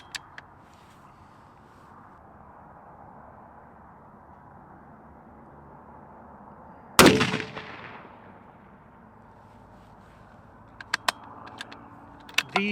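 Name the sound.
rifle shots fired during load development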